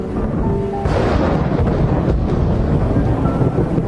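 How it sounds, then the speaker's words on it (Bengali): A radio-drama thunderclap rumbles into a heavy downpour, with a loud, dense roar of rain and a low, booming rumble filling the clip and no talk. "হঠাৎ প্রচন্ড বজ্রপাতের ডঙ্কা বাজিয়ে ঝমঝম করে বৃষ্টি নেমে এলো"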